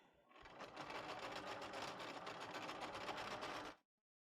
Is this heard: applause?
no